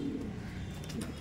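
Madrasi pigeon cooing close by, a soft low murmuring coo running steadily through a short moment with faint background noise, no talking.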